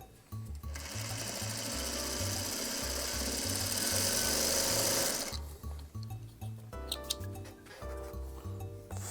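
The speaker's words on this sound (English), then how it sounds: "We're gonna actually sew this side on, or we're gonna sew it onto the correct side that it's supposed to be on." Sewing machine stitching a quilt block seam, running in a steady fast buzz for about five seconds, then in shorter stop-start bursts, close and loud, with no talk.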